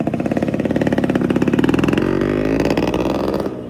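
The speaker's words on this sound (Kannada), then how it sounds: "ಇವತ್ತು ಕೂಡ ರಸ್ತೆ ಮೇಲೆ ಈ ಬೈಕ್ನ ಸೌಂಡ್ ಕೇಳಿದ್ರೆ ಜನ ತಿರುಗಿ ನೋಡ್ತಾರೆ." A Yamaha RX 100, a 98cc motorcycle launched in India in 1985, revs loudly up close, its buzzing engine and exhaust climbing and holding for a few seconds before cutting off abruptly at the end.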